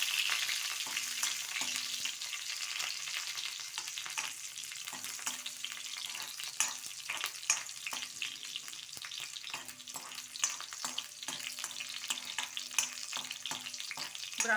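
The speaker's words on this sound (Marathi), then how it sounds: "नंतर मिरची टाकूया। चांगले हलवत राहूया।" Garlic and green chillies sizzle steadily in hot oil with cumin and mustard seeds for spinach bhaji, with repeated scraping stir strokes of a spoon against the pan throughout.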